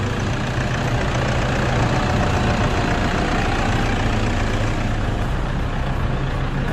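A 2013 Toyota Hilux Vigo Champ pickup engine idles steadily with a constant low rumble and broadband mechanical hum, close and even throughout, with no speech.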